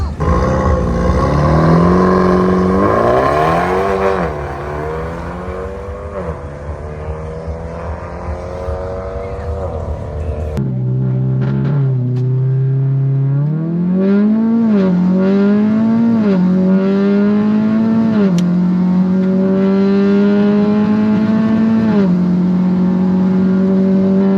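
A Mini Clubman S with a 2-litre turbo engine and four-wheel drive, revved hard and loud up close, its engine tone climbing and settling in repeated surges, with voices talking over it.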